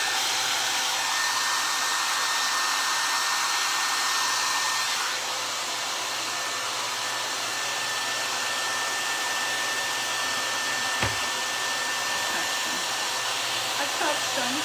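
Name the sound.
hair dryer drying paper mache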